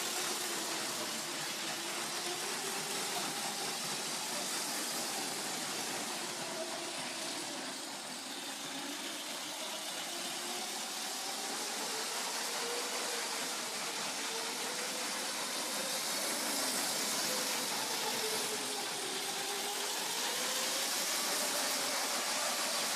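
A Lego train engine powered by two motors runs around its track, giving a steady, thin motor whine with a faint hiss that shifts slightly in pitch as it travels, close and unbroken with no talking.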